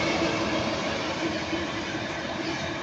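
Class 66 freight locomotive arriving at Milton Keynes Central station, a steady loud rumble of engine and rolling wheels close by throughout, with no talking.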